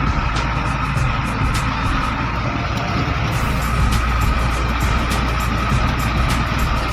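A loader vehicle drives along an ordinary city street, a steady loud engine and road rumble with a continuous traffic wash and faint ticking, no talking.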